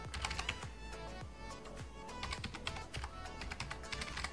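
Fingers type quickly on a computer keyboard, entering a username and password on a Raspberry Pi, making a close, steady patter of light key clicks at low volume.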